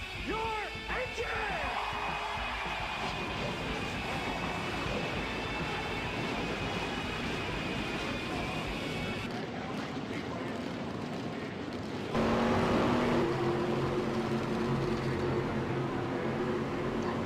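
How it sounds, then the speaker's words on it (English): Truck engines in a NASCAR-style racing video game at Iowa Speedway: a continuous dense roar that shifts about two-thirds of the way through into a louder, steadier tone with a clear whine. "Gentlemen, start your engine!"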